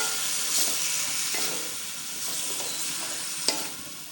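Five peeled, chopped medium tomatoes hit a pan of hot masala with green chilli for aloo palak, and a steady broadband sizzle of frying follows, with stirring scrapes and a sharper spatula knock near the end.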